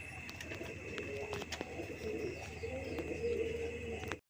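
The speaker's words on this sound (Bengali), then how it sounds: "এটা হচ্ছে রাসগোল্লা কবুতর" Rasgolla pigeons coo in a steady low murmur at a market pigeon seller's stall, several birds overlapping close by over a constant background hum, with brief sharper sounds scattered through.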